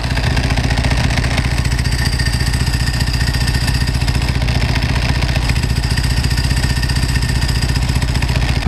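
A 1995 Ducati 900SS SP idles close by with a loud, even, rapid engine beat. The dry clutch adds a metallic rattle throughout, and no one speaks.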